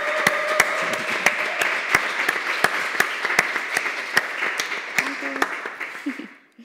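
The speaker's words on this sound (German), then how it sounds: "einen ganz kräftigen Applaus" An audience gives a hearty round of applause after a morning opening talk, with dense clapping and a few sharp louder claps that gradually thin out and fade near the end.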